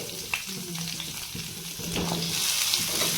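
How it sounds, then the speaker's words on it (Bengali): Long-cut potatoes frying in oil with bay leaves over a low flame, a close crackling sizzle that swells as a utensil stirs and scrapes through them. "আগে আলুটা দিয়ে আমরা ভেজে নেবো"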